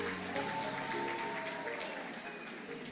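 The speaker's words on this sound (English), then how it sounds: "Kindly clap for them." Attendees at a women governors caucus event with President Ruto applaud for county team members, a steady wash of crowd clapping mixed with voices, continuous through the short stretch.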